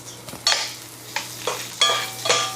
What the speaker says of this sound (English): add the eggplant. Mix it well and cook until soft